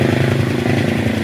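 A Honda Click 150i scooter engine runs loud and close, a steady throbbing drone with a slight waver in pitch and no voices.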